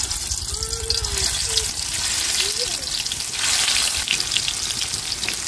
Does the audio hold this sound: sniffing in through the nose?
no